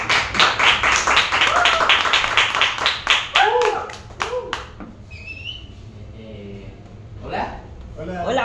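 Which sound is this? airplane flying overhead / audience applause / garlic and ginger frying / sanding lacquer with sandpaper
audience applause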